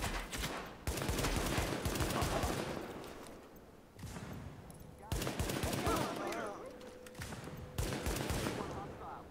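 Heavy gunfire erupts in a shootout with rioters in the video game The Division, with dense rapid bursts of automatic fire in several long volleys separated by short lulls, loud and close, with voices now and then under the shooting.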